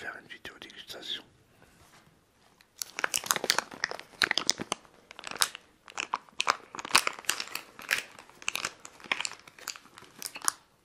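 Wasabi-coated green peas, a Japanese snack, crunched and chewed close to the mic in irregular bursts, with a soft whispered voice at the start.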